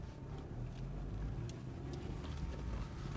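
A car drives on a skid control course, its engine and tyre rumble steady and moderately close, with wind buffeting the microphone throughout.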